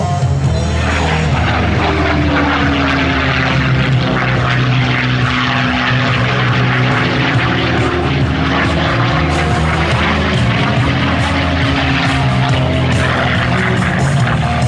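A P-51 Mustang propeller fighter flying a barrel roll at an air show, its piston engine giving a loud, continuous droning roar with a gently shifting pitch throughout.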